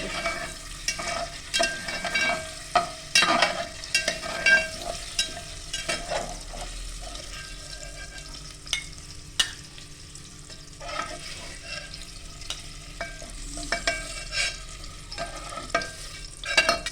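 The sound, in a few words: sautéing capsicum, tomato, onion, carrot, beans and paneer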